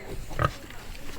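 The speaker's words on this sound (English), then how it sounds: "What's up, spotted pig?" A spotted Berkshire Yorkshire mix pig on a homestead gives a single short, low grunt close by, heard under quiet talking.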